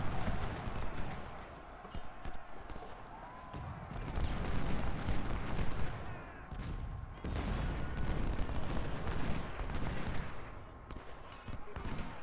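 Civil War troops firing in the Ultimate Generals: Civil War game: ragged volleys of musket shots and distant booming, swelling and fading in uneven bursts over continuous battlefield rumble.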